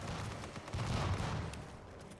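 Shotgun blasts from an enemy shotgunner in the video game The Division, a dense run of muffled booming shots clustered in the middle, with some low rumble throughout.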